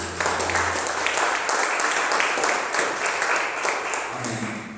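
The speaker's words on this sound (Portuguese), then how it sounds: "Vamos aplaudir a Deus?" Congregation applauding in a church service, steady dense clapping from many hands filling the room for several seconds, with faint voices underneath.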